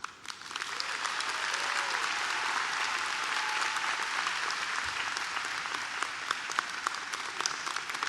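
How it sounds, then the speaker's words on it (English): Sustained audience applause fills a college commencement ceremony at Manhattan College, steady dense clapping from a large crowd heard at a distance, without talk. "Please join me now, not in applauding me, but in applauding yourself"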